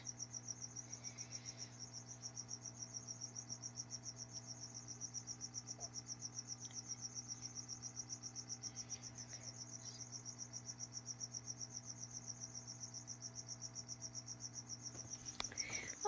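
Crickets in a reptile enclosure chirp continuously and evenly for the whole stretch, a faint, steady high trill over a low hum, with no voices.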